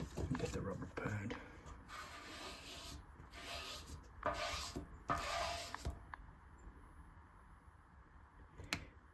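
A rubber sanding pad works over primer from a rattle-can paint job in several short, raspy strokes, followed by quieter rubbing and a light tap near the end.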